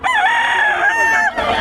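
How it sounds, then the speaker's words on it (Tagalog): A rooster at a market gives one loud, close crow that holds a long, wavering note before breaking off, followed by brief background noise. "Daming manok nila doon"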